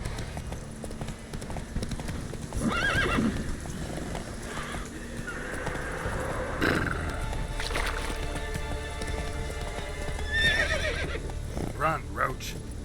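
Hooves clip-clop at a rhythmic gallop as a horse runs in The Witcher 3 video game, with occasional whinnies and game ambience, while a person talks over the action.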